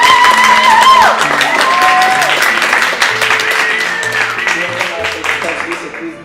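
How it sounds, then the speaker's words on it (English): Audience applause at a speaking event, a steady round of clapping filling the hall while brief tones and musical notes sound over it, fading slightly toward the end. "I would ask for a big round of applause for all."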